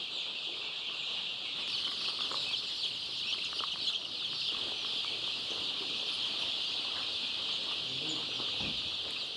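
Day-old chicks crowd a poultry breeding center, thousands of them giving a constant, dense chorus of high cheeping that fills the space evenly, with faint clucks and wing flutters mixed in.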